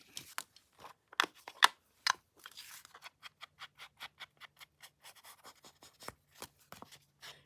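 Scissors snipping paper for a craft journal, a quiet series of crisp, irregular cuts and clicks that settle into a rapid, fairly even rhythm.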